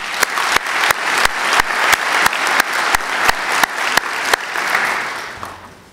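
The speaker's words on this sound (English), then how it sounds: "So please join me in a round of applause for the speakers" Audience at an air navigation symposium applauding the speakers, dense sustained clapping from many hands, with a few sharp louder claps standing out at regular intervals before the applause dies away.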